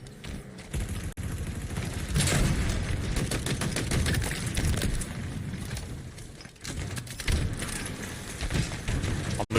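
Grenade explosions and gunfire in a Halo video game form a dense, loud barrage of booms and rattling shots, sustained with brief dips and renewed bursts toward the end.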